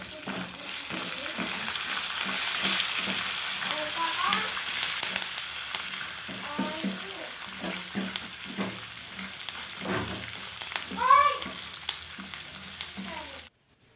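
Curry leaves, dried red chillies and turmeric fry in hot oil for a tamarind pulihora tempering, giving a steady close sizzle with scraping stirs and a few louder pops near the end.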